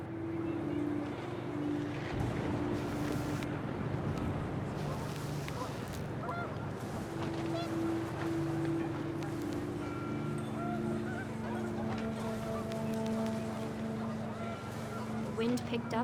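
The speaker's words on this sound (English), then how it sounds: "The wind picked up and panicked geese appeared and quickly went." Panicked geese honk repeatedly in the video game What Remains of Edith Finch, their calls scattered over a steady wind-like roar, with speech running throughout.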